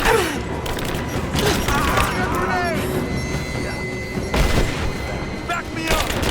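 Combat gunfire in Rise of the Tomb Raider rattles in scattered bursts and booms against a dense battle din, with a voice shouting orders over it.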